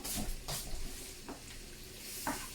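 Shrimp sizzle in butter and garlic in a pan, with a steady frying hiss broken by several scraping stirs of a utensil at close range.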